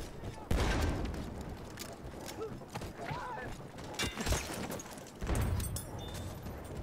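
Gunfire in Battlefield 1 crackles in scattered bursts and sharp reports, with a loud shot near the start and another cluster later, over a busy battlefield din with voices talking through it.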